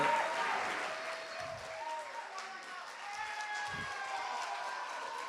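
A crowd at a youth talent contest claps for performers called back onstage: a sustained, moderately loud patter of many hands, with faint musical tones and a few low thumps mixed in.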